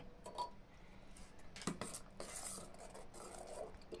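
A spoon stirring cardamom powder into almond milk in a cup, light clinks and scrapes against the vessel, faint and intermittent, with a few sharper taps.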